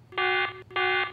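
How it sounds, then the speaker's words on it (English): Two long electronic alarm beeps from a Hanna calcium checker, harsh and buzzy, each lasting about a third of a second with a short gap between, loud and close. "the checker would glow and beep and make an end of the world sound kind of like this one"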